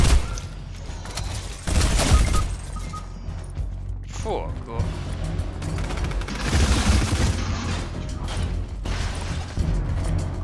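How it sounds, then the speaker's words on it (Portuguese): Gunfire in a Fortnite Battle Royale squads match cracks out in loud bursts and scattered single shots, mixed with mechanical clicks and booms. A player talks over much of the action. "O bot deu-me um tiro encostado a mim e tirou-me 87."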